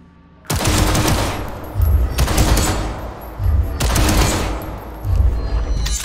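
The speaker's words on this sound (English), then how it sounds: "Machine gun." Sustained machine gun bursts in the video game Cyberpunk 2077, two long loud rattling volleys of rapid fire, close and dense, each lasting over a second, with no talk over them.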